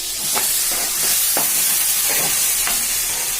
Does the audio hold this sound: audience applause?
no